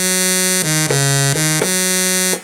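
A sustained, buzzy Kawai K1 synthesizer tone with rich harmonics, shifting pitch a few times over a couple of seconds, loud and alone.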